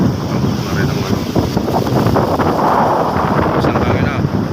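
Steady wind roars and buffets outdoors beside a wooden boat near the water, loud and continuous, with faint voices now and then beneath the gusts.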